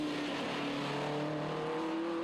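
Damaged TVR Tuscan race car circling at reduced pace, its engine a steady, moderately distant drone holding a fairly even pitch, with no talk over it.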